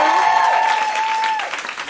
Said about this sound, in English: Can we give it up for them, please?